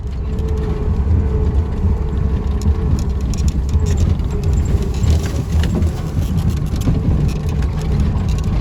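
A car engine runs steadily with a low rumble while the vehicle is driven, heard close and continuous throughout with no voices.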